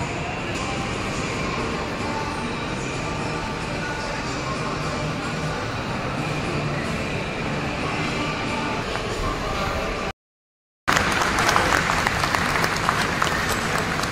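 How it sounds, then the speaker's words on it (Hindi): A crowd at a mall's tenth anniversary celebration claps in a dense, sustained burst for over ten seconds, then breaks off briefly before the applause resumes slightly louder. "तालियां होनी चाहिए यार, बहुत जोरदार है"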